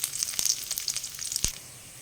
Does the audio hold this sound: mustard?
yes